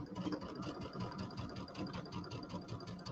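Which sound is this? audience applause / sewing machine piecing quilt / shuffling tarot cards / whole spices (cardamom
sewing machine piecing quilt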